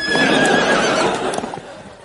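Comedy sound effect of a horse neighing loudly and clip-clopping its hooves, with a bright whinny sweeping across the first half and hoof clops trailing off near the end, heard alone with no voices.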